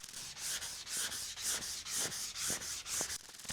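Rhythmic back-and-forth rasping of wet sandpaper rubbed on a 1958 Vendo 81 Coke machine body panel, close up, with a steady repeating stroke about twice per second.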